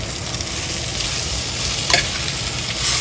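Onions, eggplant and curry leaves hit hot oil in a pan with a loud, steady sizzle and a sharp clatter of stirring midway, with no talking.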